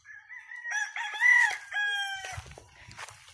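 A rooster crows nearby, a loud, drawn-out call with a strained, wavering middle, followed by softer clucks and faint rustling in the background, with no one speaking.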